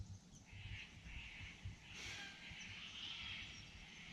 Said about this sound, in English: I'm not sure if you guys can hear the birds in the background.